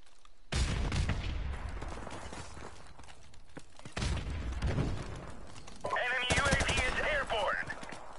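Online multiplayer gunfire in Modern Warfare Remastered: loud bursts of shots and booming reports in separate waves, mixed with a voice talking over the action.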